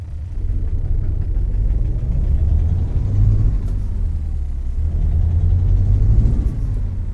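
A Magirus Deutz 290 truck engine in American Truck Simulator rumbles steadily at low pitch, swelling slightly as it revs, with a continuous mechanical drone throughout and no talking.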